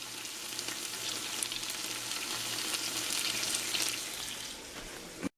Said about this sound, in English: I'm now adding the onions and the garlic to the pot with the meat.